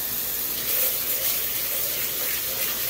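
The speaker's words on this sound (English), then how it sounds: "and just sort of wash your rice" Rice being washed by hand in cold water in a bowl, a steady close rush and swish of water throughout with no talking.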